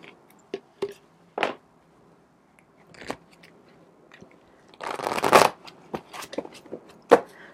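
Tarot cards are shuffled by hand in short, close bursts of riffling and snapping, with one longer flurry of shuffling in the middle and sparse quiet gaps between.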